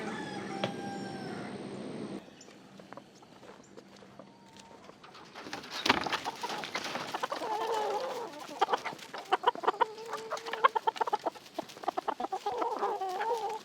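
Chickens clucking and squawking on a Texas homestead, with a rooster among them and a pigeon-like cooing, close and busy throughout, the calls growing denser and louder in the second half.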